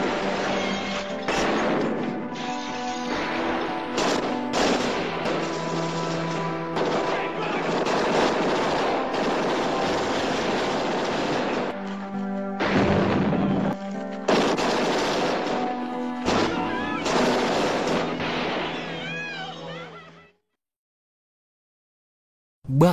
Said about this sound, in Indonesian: Di sana terjadi baku tembak antara geng Borough dengan gerombolan polisi tersebut